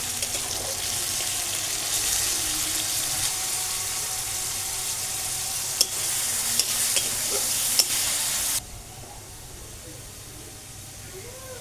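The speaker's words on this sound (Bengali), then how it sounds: "এবার পেঁয়াজটিকে বাদামি করে ভেজে নিচ্ছি।" Chopped onions with a dried red chilli and salt frying in a pan until brown, a steady hiss of sizzling with stirring scrapes and a few sharp clinks, ending abruptly into quiet.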